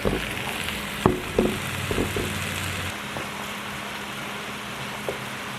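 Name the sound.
sautéing mushrooms in a pan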